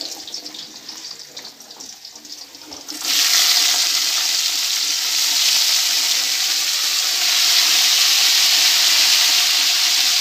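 Chopped long beans hit a hot pan and set off a loud, steady sizzling hiss that holds evenly for several seconds after a quieter start.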